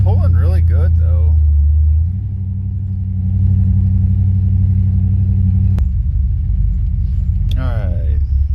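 A Cadillac pulls hard on a test drive, its engine rumbling loud and steady close by, dipping briefly before surging again, with someone talking over it near the start and end.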